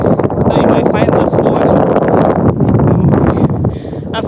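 Gusty wind buffets a phone microphone at an outdoor protest in Washington DC, with loud rumbling and crackling, mixed with talking throughout.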